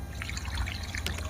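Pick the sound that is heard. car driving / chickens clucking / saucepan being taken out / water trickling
water trickling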